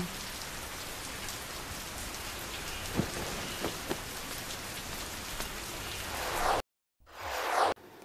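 Steady heavy rain pours down with a few dull thunder thuds, swelling to a louder whoosh before cutting to silence and briefly returning.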